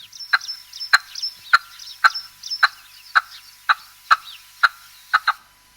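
A red-legged partridge calls in a series of about a dozen sharp, harsh, chuckling notes, evenly spaced and clear, close and fairly loud, with no talking.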